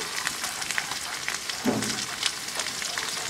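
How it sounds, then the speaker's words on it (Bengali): Cumin, garlic and ginger pastes with turmeric, chili and coriander powders and salt sizzle steadily in hot oil while a spatula stirs them in a pan for a duck egg curry. The crackling frying hiss is close and continuous, with a few soft scrapes. "এখন আমি চুন্নি দিয়ে আবারও খুব সুন্দরভাবে নেড়ে চেড়ে নিচ্ছি"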